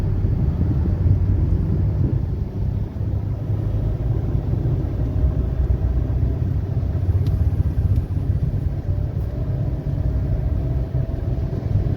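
A car on a driving lesson drives on with a steady, loud engine and road rumble from inside the cabin, continuous for several seconds without talk.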